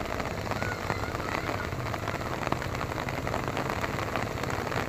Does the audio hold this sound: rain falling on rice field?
yes